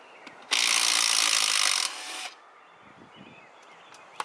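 A ratchet backing out 8mm bolts from a clutch throwout bearing during a manual transmission swap gives one loud, fast clicking burst lasting over a second, then a shorter, quieter run of clicks.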